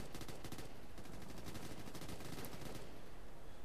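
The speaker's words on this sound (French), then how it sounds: "je crois qu'on me tire dessus" Bursts of rapid automatic gunfire aimed at the player in Ghost Recon Future Soldier on PS3, with dense crackling shots repeating steadily throughout at a faint level, no speech.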